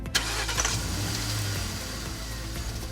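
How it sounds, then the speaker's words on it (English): A car engine with an anti-theft immobilizer cranks and catches at once, then settles into a steady idle that stays close and fairly loud, with no talking. "I am starting the engine."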